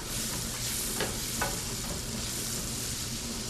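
Onion sautés in butter in a pan, a loud, continuous close-up sizzle with a couple of brief scraping stirs near the start.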